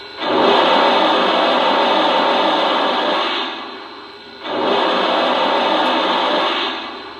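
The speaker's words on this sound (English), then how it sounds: "Here's the cylinder steam sound." A Lionel Western Maryland 1309 model steam locomotive plays its cylinder steam sound effect: two loud, close hissing bursts of white-noise steam, each about three seconds long, separated by a brief dip.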